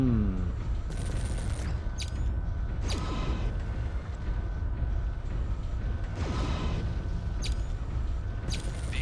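Grouped mech weapons fire in MechWarrior 3, loud bursts of shots and mechanical clanks over a constant loud rumble of battle, with several sharp volleys spaced through the scene.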